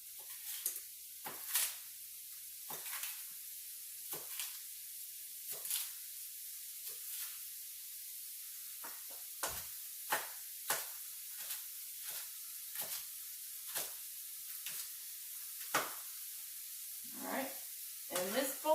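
Onions frying in a pan for taco filling, a steady soft sizzle broken by sharp bursts of crackling and stirring scrapes, fairly quiet, with occasional talking.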